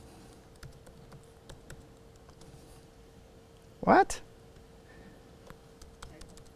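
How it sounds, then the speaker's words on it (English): A single press of the enter key on a computer keyboard, one sharp close click against a quiet room, with a brief spoken word nearby. "I'm not actually typing that, though. I'm just pressing enter."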